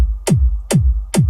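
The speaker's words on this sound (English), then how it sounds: "The only the kick would sound like this." Three evenly spaced kick drum hits with no added transients, each a punchy attack dropping into a deep, booming low thump, loud and alone.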